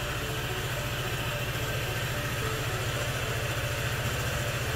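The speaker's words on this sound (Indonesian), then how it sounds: "Berikut adalah suara mesin dari Honda PCX." A 2018 Honda PCX 150 scooter engine idles with a smooth, even, rapid low pulsing, steady and close with no other sounds.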